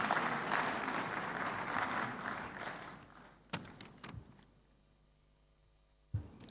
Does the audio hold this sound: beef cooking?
no